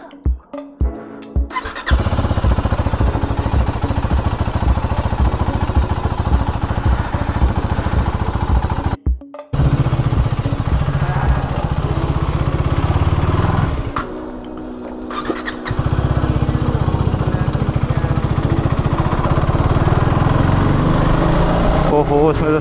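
A KTM Duke 390 motorcycle starts from cold at night with a short cranking whir, catches, and settles into a loud, close, steady idle with a couple of throttle blips, while a voice speaks briefly nearby.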